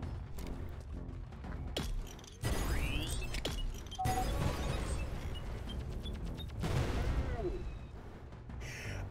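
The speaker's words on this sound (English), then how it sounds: "the test tube launcher creates an initial explosion and then creates another explosion" Explosions from a test tube launcher in the co-op game Rubber Bandits, several loud bursts and crackling blasts over a busy game mix, with a second detonation following the first.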